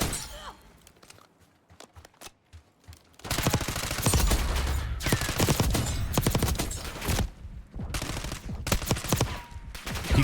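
Rapid automatic gunfire in the Warzone shooter: a quiet opening gives way to dense, loud bursts of machine-gun fire that continue almost without pause for most of the stretch, with brief gaps between volleys.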